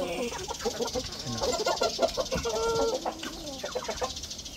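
Rhode Island chickens cluck and murmur steadily in a poultry pen, a dense flock chorus of short overlapping calls at moderate distance, continuing throughout with faint background voices.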